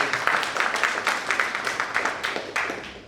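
An audience in a cryptocurrency seminar gives a student a short round of applause, dense clapping at moderate volume with irregular sharper claps standing out.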